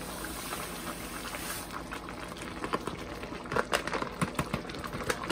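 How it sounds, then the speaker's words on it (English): Seafood boil liquid bubbling in a pot, a steady dense roil with popping bubbles that grow louder and more irregular toward the end, heard up close with no voices. "So now we got the boil going on."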